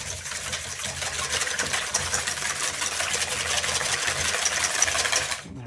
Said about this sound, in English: And I want to whisk that up.